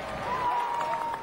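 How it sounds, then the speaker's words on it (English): Crowd outside the Odeon Cinema at a royal gala performance cheering and applauding in light November drizzle as the royal car arrives, a steady mid-distance wash of clapping and voices. "The crowd cheers, their spirits undampened by the light November drizzle."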